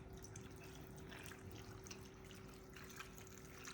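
Milk pours into a 9 by 13 baking dish with a faint, continuous liquid trickle and soft splashing, low in level and steady from start to finish.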